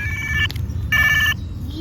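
A toy telephone rings loudly in two short electronic trilling bursts separated by a brief gap, close and clear.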